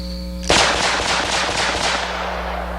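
A Smith & Wesson 460 Rowland revolver with a ported barrel fires one loud, close shot. The sharp blast rings out briefly and then decays over a background hum.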